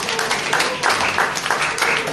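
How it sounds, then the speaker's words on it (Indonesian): A church congregation claps in thanks to God, giving a loud, steady wash of applause with faint rhythmic pulses and a busy background. "berikan tepuk tangan yuk bagi Tuhan."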